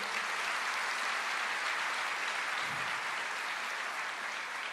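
A church congregation applauds together in a steady, dense wash of clapping that holds at an even level throughout, with no voices over it.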